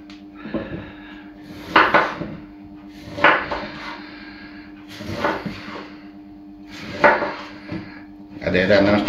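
A rutabaga being chopped into large dice on a kitchen board, heard as a few separate knife thuds and knocks spaced a second or two apart, with light clattering in between.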